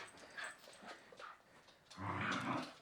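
A puppy makes soft dog noises indoors, with faint whimpers, yips and low growly sounds coming in short bursts before a louder, rougher stretch near the end.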